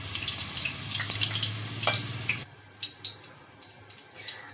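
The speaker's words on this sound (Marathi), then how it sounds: "त्यामुळे मिरच्या तळताना काळजी घ्यायची आहे." Green chillies frying in hot oil: a steady, close crackle and sizzle that drops after a couple of seconds into softer, scattered pops and spits, with no voices.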